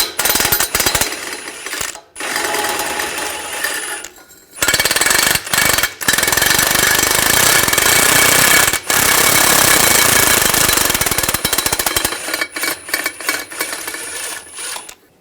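Power tool with a 15mm socket rattling out starter bolts on a 2011-2018 RAM 1500 3.6L V6, loud harsh impact bursts in several runs separated by short breaks.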